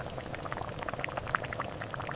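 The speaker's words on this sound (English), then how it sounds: "Soup bubbles gently in the pot, with iridescent highlights, a meditative sight." Soup bubbling gently in a pot on the stove, soft close popping and burbling, quiet and continuous.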